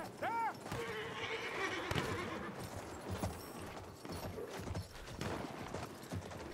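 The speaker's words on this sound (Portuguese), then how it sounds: "Olha só o cavalo" Horse galloping in the video game Battlefield 1, rhythmic hoofbeats clattering steadily and close, opening with a whinny, over game ambience and faint voices.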